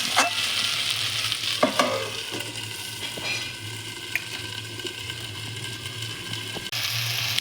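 Meat frying in released oil with ground garam masala, stirred steadily: a continuous close sizzle with scraping spoon strokes and occasional clicks against the pan, no voices.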